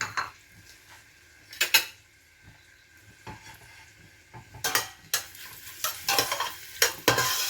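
Onions cooking on low heat in a pot for a Durban-style sugar beans curry with dry chillies, with intermittent stirring and utensil scrapes against the pot over a soft sizzle.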